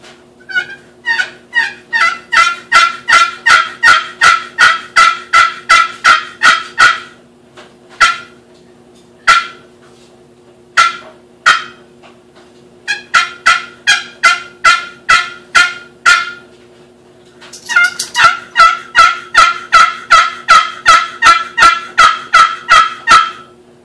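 A cedar over black limba turkey call is worked by hand, giving close, crisp runs of rapid yelps in rhythmic bursts with short pauses between series, and no talking.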